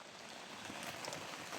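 Rain falls outdoors, a dense steady patter on surfaces with a few louder drops standing out, close and continuous throughout.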